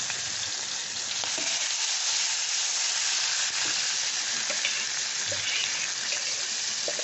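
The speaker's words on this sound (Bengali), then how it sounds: "অল্প আছে, একটু সাঁতলে নেব।" Prawns seasoned with salt and pepper sauté in oil in a wok for butter garlic prawns, giving a steady, dense sizzle and hiss with faint stirring clicks, close and continuous with no talking.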